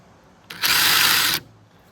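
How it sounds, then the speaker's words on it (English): A DeWalt impact drill fitted with a grinding tip runs in one loud, steady burst of just under a second, with a high whirring whine that starts and stops abruptly over low background noise. "I got my drill right here with my grinding tip on the end of it."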